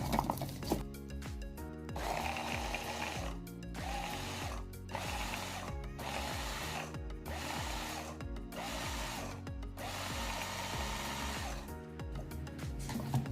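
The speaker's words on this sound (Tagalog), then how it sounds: "So, blender lang natin." A blender blending pasta sauce whirs in repeated pulses, the motor revving up and cutting out several times in a loud, close, rhythmic on-off pattern.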